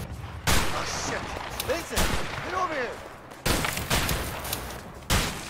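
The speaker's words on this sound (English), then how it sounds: "He's shooting me right now" Gunshots in the video game A Way Out, several sharp loud cracks spaced apart among game noise, with someone talking over the action.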